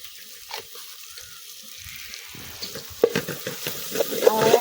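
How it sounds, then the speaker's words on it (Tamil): Masala with turmeric sautéing in a pan for cowpea pulao, with a soft sizzle and a spoon scraping and stirring in quick, irregular strokes that grow louder and busier toward the end, close up with no talk. "எல்லாம் வதங்கிடுச்சு மசாலாலாம் நல்லா வதங்கி வாசம் வந்துருச்சு பாருங்க"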